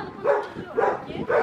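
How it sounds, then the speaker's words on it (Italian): A dog barks three times in steady, loud bursts outdoors, each bark sharp and close, with faint background noise between them. "C'è anche il cane che gli urla dietro"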